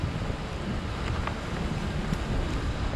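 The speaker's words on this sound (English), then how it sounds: "Oh, the wind's fighting me." Gusty wind buffets an outdoor microphone in a steady low rumble, with faint water-like wash mixed in, while someone pushes and cuts something free; no speech.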